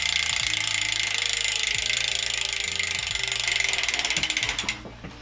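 Hope bicycle hub freewheel on a mountain bike being converted to a 650b gravel bike ratchets with a loud, rapid, buzzing click as the wheel spins freely, then slows into separate clicks and stops near the end.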